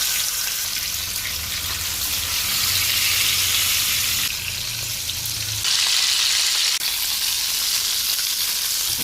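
Fish pieces rubbed with turmeric and salt sizzle in hot oil, a loud, steady, dense frying hiss that flares up briefly partway through and carries on without pause.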